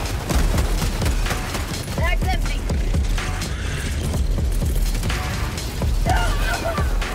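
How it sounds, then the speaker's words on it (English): Mortar sentry firing in Helldivers 2 amid a dense, loud barrage of explosions and battle noise, with mechanical clanks and whistling rounds layered throughout; a voice speaks over the din. "Mortar sentry."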